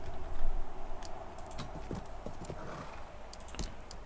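Horse hooves clip-clop in an irregular rhythm, with a whinny, in the Viking-era video game Expeditions: Viking. The sounds are fairly quiet and clear, and there is no talk over them.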